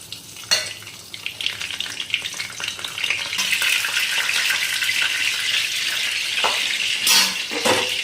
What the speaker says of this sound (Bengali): এবার তেলটা গরম হয়ে গেছে, এবার এই ফোড়নটা দিয়ে দিই।